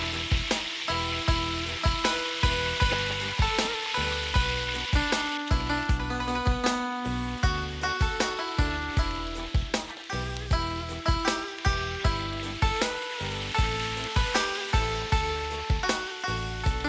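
Duck frying in hot fat in a pan, a steady loud sizzle with crackling bursts throughout, no talk over it.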